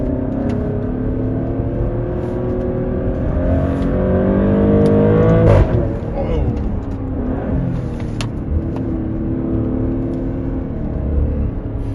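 Maserati Grecale SUV engine in Corsa mode pulls steadily from inside the cabin, a continuous loud drone with rising harmonics and a brief surge near the middle, no talking.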